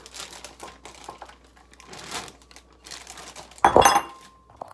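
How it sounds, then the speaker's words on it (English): A small plastic bag of spices handled while roasting garbanzo beans, giving a loud, close crinkling burst near the end after quieter rustling and light kitchen clatter. "We're going to take our little bag."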